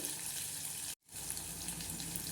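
Onions fry in a pan with a steady, hissing sizzle that is cut off by a brief silent gap and then resumes evenly.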